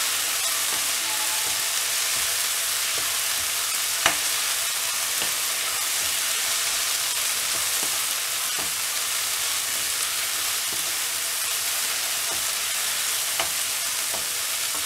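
Coriander leaves sauté in hot oil for thogayal, giving a steady broadband sizzle throughout with a few soft utensil clicks scattered across it, no voices.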